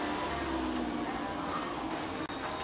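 A telephone rings at a service garage, heard as a steady ring under a dense wash of background noise, with no speech.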